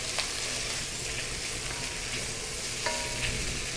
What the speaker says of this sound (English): We're going to soften the onions a little bit as well